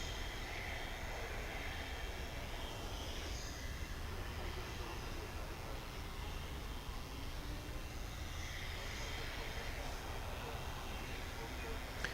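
An arriving airliner, flight 2747 from San Diego, passes at DFW Airport at night as a faint, steady, distant jet rumble that stays even throughout.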